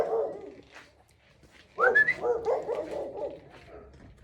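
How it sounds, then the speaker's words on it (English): A loose dog on a leash barks and whimpers up close in a suburban South Valley setting, a short burst of yips and barks rising after a quiet stretch, with a whistle-like whine earlier. "There's just some random dog with a leash."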